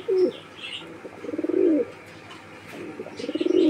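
Fancy pigeons, including an Afsan grizzle pair, cooing in a sales collection; three rising, rolling coo phrases sound close and clear with short pauses between, and faint chirps flicker in the background.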